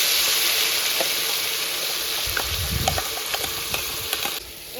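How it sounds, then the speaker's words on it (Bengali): Onion paste fries in hot oil for a Bengali prawn malai curry, a steady close hiss of sizzling with a few soft clicks and a low scraping stir near the middle, with no talking. "এবার খুব ভালো করে পেঁয়াজটা কষিয়ে নেবো"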